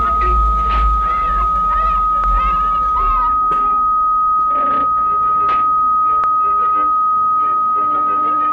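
A steady electronic alarm tone from LumenMill software on macOS holds continuously at one pitch while someone talks over it at first, then it continues alone with sharp brief clicks.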